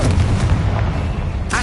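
The Confringo blasting spell in Hogwarts Legacy, a heavy booming burst with low rumbling impact and crackle, followed by a short whooshing flourish near the end, loud and close in busy game combat.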